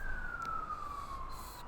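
A police or ambulance siren sounds at Wasaga Beach as one long wailing tone that slowly falls in pitch, heard fairly clearly over low background rumble without any talk.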